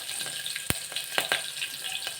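Mustard seeds, curry leaves and coriander crackle in hot tempering oil, making a soft continuous sizzle broken by a few sharp pops and spits. The sound is close and fairly quiet.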